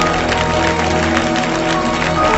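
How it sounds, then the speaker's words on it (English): Steady, loud rhythmic handclapping from a large church congregation during a live worship service, a thick unbroken roar of applause with crowd murmur underneath. "Clap them like you've got an open heaven."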